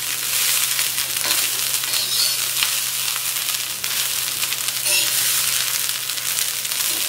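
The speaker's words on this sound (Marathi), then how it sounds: "मी गॅस पुढे ठेवायचा फुल मीटवर, मस्त असं सगळीकडून परतायचं." Cumin rice tossed in ghee over a full flame gives a steady, close, dense sizzle and crackle across the whole stretch, with no one talking.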